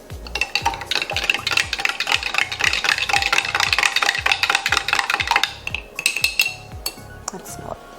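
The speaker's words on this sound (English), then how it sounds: "Just gonna stir that around" A spoon stirs fresh-squeezed lemon juice into milk to make buttermilk, clinking rapidly and rhythmically against the side of a bowl in close, steady strokes that slow briefly near the end.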